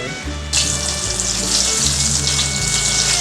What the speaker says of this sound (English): For the tempura, you have to deep fry 2 times.